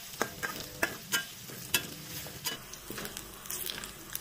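Minced garlic fries with chicken skin in a pan, a soft steady sizzle broken by repeated scraping stirs of a utensil, heard close and fairly quiet.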